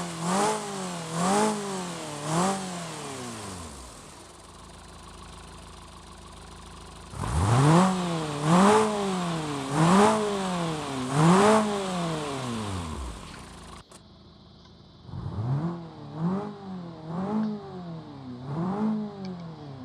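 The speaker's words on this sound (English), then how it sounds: "You can hear the M42 has a bit of a raspy sound, the valves opening and closing." A BMW E36 with an M42 four-cylinder engine revs repeatedly in a sound mod, rising and falling in quick bursts with a raspy valve clatter from the flat-lifter cam, loud and close with short gaps between runs.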